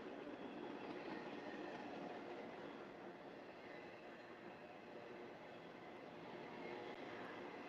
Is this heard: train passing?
yes